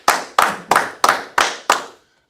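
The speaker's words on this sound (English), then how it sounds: "Clap it up. Clap it up." A group at a brotherhood class claps in unison, six sharp, evenly spaced claps about a third of a second apart, each ringing briefly before the next, then silence, loud and close.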